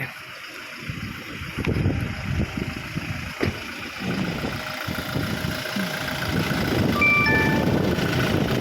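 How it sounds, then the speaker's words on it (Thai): A Toyota Revo 2.4E pickup truck diesel engine idles steadily at close range, a low continuous rumble with some rattling, joined by a faint whine near the end. "เดี๋ยวเราไปฟังเสียงเครื่องยนต์พร้อม ๆ กันครับ"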